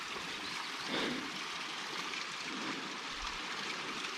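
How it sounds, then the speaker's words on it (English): Gentle trickle of water spilling over the top of a rocky pool, a steady soft broadband wash that runs unbroken and moderately close, with no voices. "just a trickle of water coming over the top"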